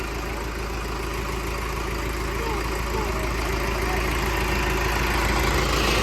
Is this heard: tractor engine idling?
yes